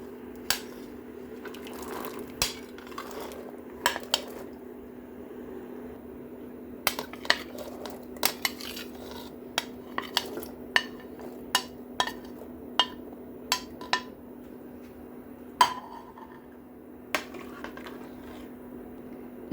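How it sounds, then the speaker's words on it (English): Prepared vegetables for a vegetable soup going into a pot, heard as scattered clinks and knocks of utensils against the pot over a quiet, steady background hum. "With the same pot, let's put in all our prepared vegetables."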